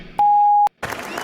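A single steady electronic beep marking the start of a radio talk show, loud and clean for about half a second, set between stretches of background noise.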